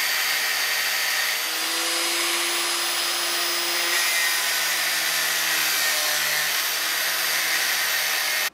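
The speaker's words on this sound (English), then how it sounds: "So I cut the bulk of it off with the cut-off wheel and the grinder" Angle grinder with a cut-off wheel cuts through a stud while an MR2 is being rebuilt, a loud continuous high whine holding steady for several seconds with a slight change in pitch partway through, heard alone without speech.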